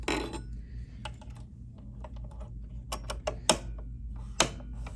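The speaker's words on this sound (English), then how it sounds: "And now I'm going to put the straight stitch needle plate on." A straight stitch needle plate is fitted onto a BERNINA 735 embroidery machine, producing a series of close, light metallic clicks and taps over a low machine hum.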